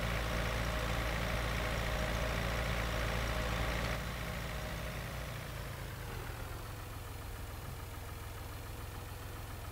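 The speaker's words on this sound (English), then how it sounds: "So it's a very quiet tractor though." Steady mid-pitched engine drone of an Ursus tractor idling in Farming Simulator 2013, continuous and even, with a slight drop in loudness and pitch partway through and no talking.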